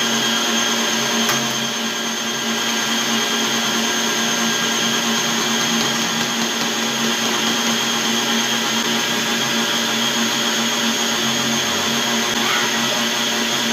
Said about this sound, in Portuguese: E joga com a batedeira ligada.